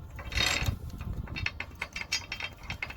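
Small loose bolt rattling in the traction bar of an HSP Reaper RC truck, a busy irregular metallic clatter of rapid ticks and taps running steadily close up for the whole stretch.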